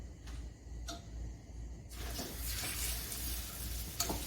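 A few faint clicks, then sizzling of flour-dredged chicken in hot oil swells up and holds steady, with a sharper crackle near the end.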